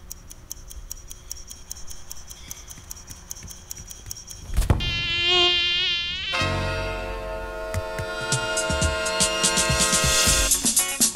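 A malaria-prevention public service announcement opens with steady rapid ticking, then a whining buzz like a mosquito, followed by a loud, bright layered sound that keeps going to the end.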